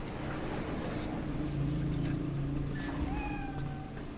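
In Cyberpunk 2077, a cat gives a faint meow near the end, heard over a low droning game ambience with some muffled background tones.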